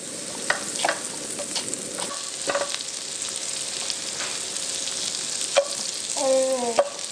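Bread toasting in garlic and chive butter in a pan gives a steady close sizzle and crackle with a few scrapes and pops, heard alone with no voices.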